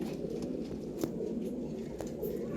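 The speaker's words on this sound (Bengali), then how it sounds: "প্রতিটা পায়রা বাড়ির পায়রা" Pigeons coo softly amid a steady background hum, with a couple of faint clicks.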